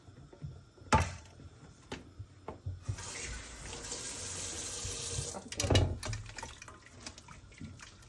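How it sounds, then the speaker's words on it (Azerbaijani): Cold water running from a kitchen tap, a steady close splash into a sink or pot for a few seconds, with brief knocks and clatter around it. "Biraz soyuq su əlavə edirəm."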